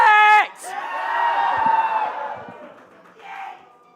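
Crowd at a Splatoon tournament grand final cheering and whooping, a loud shout up front and then a swelling roar of voices that slowly fades, with a brief yell near the end.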